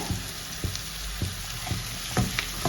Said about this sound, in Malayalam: കുറച്ച് ഉപ്പും ചേർത്ത് അതിനൊന്ന് വഴറ്റണം നന്നായി വഴറ്റിയെടുക്കണം